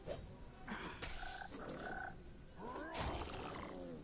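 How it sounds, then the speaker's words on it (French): A giant primordial frog creature in the fantasy game Pathfinder: Kingmaker lets out deep, gurgling croaks and growling calls in several bursts over a few seconds, fairly quiet within the game's sound mix. "Grenouille géante primordiale."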